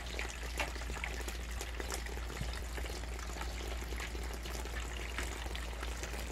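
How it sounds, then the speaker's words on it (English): Hail falls outside in a continuous hissing patter with scattered sharper ticks over a low steady hum, fairly quiet and even throughout, no voices. "It's hailing."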